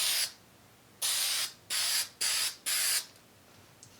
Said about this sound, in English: as you can see with this Super 77, it sprays really nice